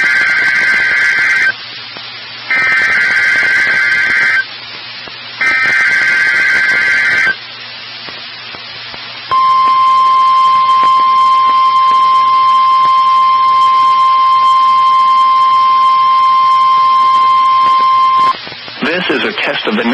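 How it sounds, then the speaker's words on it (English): NOAA Weather Radio emergency alert tones: three loud bursts of the harsh two-tone data squawk, then a long, steady, piercing single-frequency attention tone that cuts off abruptly. No voice over the tones. "The alert tones which were just broadcast will automatically activate special receivers to alert you of impending hazards."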